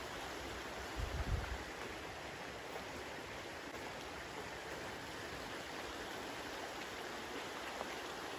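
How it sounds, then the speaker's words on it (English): The Greenbrier River babbles steadily as a continuous, fairly faint wash of flowing water, heard outdoors alone with a brief low thump near the start. "the sounds of the babbling Greenbrier River"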